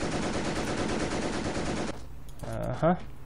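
Machine gun fire in the Company of Heroes video game, a loud sustained burst lasting about two seconds, then quieter battlefield noise with a brief sharp sound near the end.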